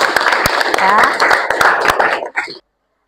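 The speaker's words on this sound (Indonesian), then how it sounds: "kita kasih aplaus dulu untuk Fabregas" Classroom applause for a student named Fabregas, a burst of many hands clapping close by for about two and a half seconds before stopping abruptly, with voices mixed in.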